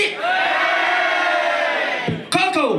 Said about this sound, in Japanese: 勝ったと思う方の名前が呼ばれた後に片手挙手、歓声の方をお願いいたします